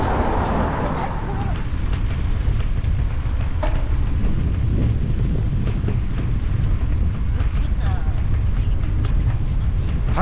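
Outdoors beside the Yeongsan River, wind rushes as a loud, steady, broadband roar that buffets the microphone for the whole stretch.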